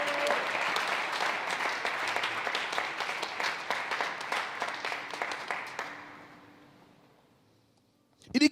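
A church congregation breaks into loud, sustained applause and cheering for the Lord, a dense wash of clapping that holds steady for about six seconds before fading out, followed by a brief sharp sound at the very end.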